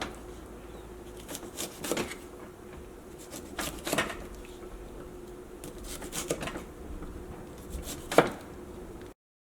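A knife chops green beans on a cutting board for fried rice, giving a few sharp, close taps in small clusters with quiet pauses between, and no voices.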